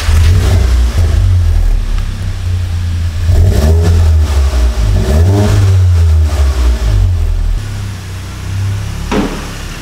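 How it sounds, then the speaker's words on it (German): A Seat Leon Cupra fitted with a Bull X exhaust revs loudly and close up, with a deep, throaty engine note that rises and falls through several throttle blips. A sharp burst closes the last moment, and there is no talk. "hör du mal schön den Sound von der Bull X Abgaser nach"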